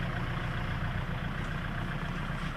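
A farm tractor engine idles with a steady, low rumbling drone at moderate distance on a cassava-planting field, continuous and unchanging throughout, with no voices.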